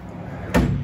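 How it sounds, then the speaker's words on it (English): A Kings Titan drawer slides shut into its bump stops inside a Toyota, a single soft thud after a short quiet glide. "now when you let the drawer slide,"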